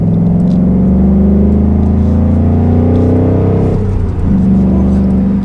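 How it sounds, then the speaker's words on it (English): A 2019 Ford Mustang Bullitt V8 accelerates, its deep exhaust rumble rising steadily in pitch, then dropping briefly at a gear change before climbing again, loud and close. "It has a nice deep V8 rumble to it, as a V8 Mustang would."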